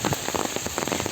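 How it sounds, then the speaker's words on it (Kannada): Heavy rain pours down steadily outdoors, a dense, loud hiss of drops striking surfaces with constant patter and no let-up across the short stretch. "ಹೆವಿ ಅಂದರೆ ಹೆವಿ ಮಳೆ ಇದೆ"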